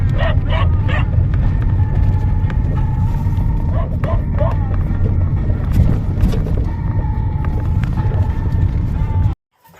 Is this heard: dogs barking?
yes